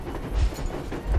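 A train in the video game Metro Exodus rumbles and clatters in a continuous low, rolling sound with heavier thumps, like wheels over rail joints.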